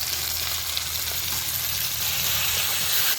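Ground tomato paste hitting the pan in a chicken curry made with tender coconut water, a dense, loud, continuous sizzle heard up close and alone.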